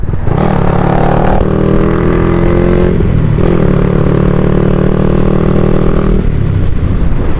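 Modified motorcycle with a stainless steel exhaust revving hard nearby: a loud, continuous engine roar that climbs and falls through several rev sweeps, dominating everything with no talk.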